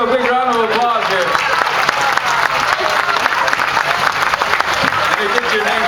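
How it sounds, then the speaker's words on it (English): Audience applause at a live comedy-style show, a dense wash of many hands clapping steadily for about six seconds with crowd voices and a speaking voice over it. "let's give a big round of applause here."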